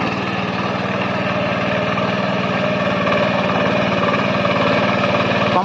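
A farm tilling machine engine runs continuously and loudly up close, with a steady rumbling drone and a rhythmic mechanical chug throughout.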